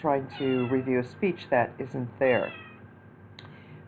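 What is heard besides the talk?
cat meowing in the background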